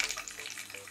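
Pork patties for a homemade McRib sizzle and fry in a hot pan, a steady close crackle and spit with bright popping throughout, alone without talk.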